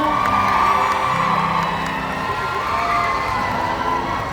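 An audience at a likay folk theatre performance cheers and whoops in a sustained, lively wash of crowd noise that stays fairly loud and even from start to finish.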